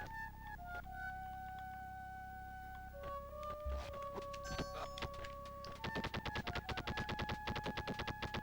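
Sega video game gunfire on Genesis-era hardware: rapid, evenly spaced electronic shots in a steady burst over chiptune-style tones and bleeps, faint and with no talking.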